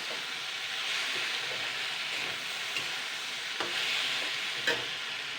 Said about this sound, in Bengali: 1-2 মিনিট নাড়াচাড়া করে নেব।